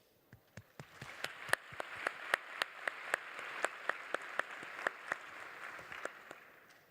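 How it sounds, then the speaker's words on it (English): An audience applauds panelists at a skills event, a steady patter of many hands at moderate distance with sharp individual claps standing out, sustained evenly throughout. "if you don't mind joining me in giving a warm round of applause for our panelists"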